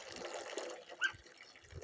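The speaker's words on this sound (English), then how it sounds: "topping off the bunny's water" Water trickles into a pet rabbit's water jar as it is topped off: a quiet, brief pour over a faint background hiss, with one slightly louder splash midway.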